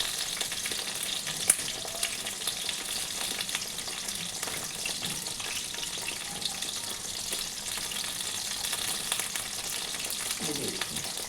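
Stuffed potato laddus fry in hot oil until crisp, giving a constant bubbling sizzle up close with occasional faint clicks and stirring sounds.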